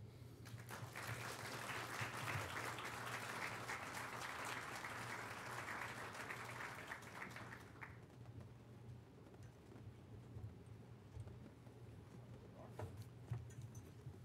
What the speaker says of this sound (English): How about another round of applause for our students?